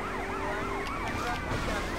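Several police sirens in Grand Theft Auto: Vice City wail and yelp together at once, the rising and falling tones overlapping over engine noise, loud and close.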